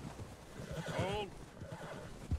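A horse neighs in Red Dead Redemption 2, a clear descending whinny under talk, close and fairly loud, with a thud near the end.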